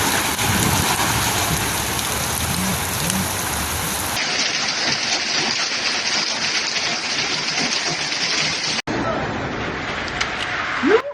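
Heavy storm in Argentina with dense, steady rain and hail pounding surfaces, low rumbles of thunder underneath, continuous and loud throughout with a brief break near the end; faint voices mingle in the background.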